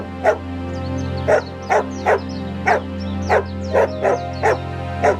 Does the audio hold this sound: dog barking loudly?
yes